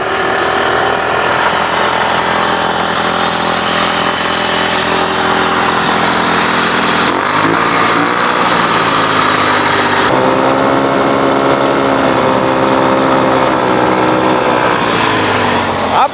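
A homemade propeller-driven bicycle engine, built without a chain, runs steadily and loudly after being started by spinning the propeller, a constant buzzing drone with a slight shift in pitch partway through.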